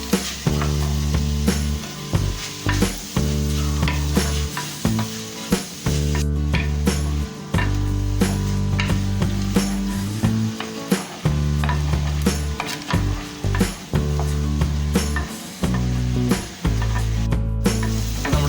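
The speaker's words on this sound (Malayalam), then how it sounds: "കുറച്ച് നേരം നന്നായിട്ട് വഴറ്റിക്കൊണ്ടിരിക്കുക." Onions sauté in a pan for a home-style crab curry, a continuous sizzle overlaid by loud, rhythmic low thumps and clatter that repeat throughout with brief dropouts, and no talking.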